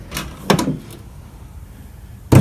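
A few clunks and a metallic latch click, then a louder thump at the end, as a 1981 GM car's hood is released and lifted outdoors in wind; the car now has a 350 engine.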